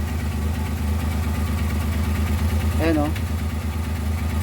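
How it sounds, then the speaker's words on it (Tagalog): A multicab's engine idles with a steady low, even throb, close and continuous. The vehicle has a brake fault where the engine dies when braking. Someone talks briefly over the running motor. "tapos pakinggan nyo yung tunog ng makina"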